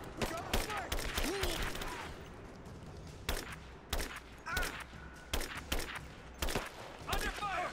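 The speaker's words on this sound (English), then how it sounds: "Under fire!" Bursts of gunfire from a firefight in the Rise of the Tomb Raider video game, with repeated sharp shots and rapid volleys over a busy battle din, while voices shout in the background.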